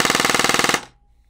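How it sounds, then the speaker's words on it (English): Lancer Tactical PPK-20 airsoft gun firing full auto, a loud, very rapid burst of evenly spaced mechanical cracks lasting under a second, then stopping abruptly into near silence. "The PPK-20 also has an insanely fast rate of fire."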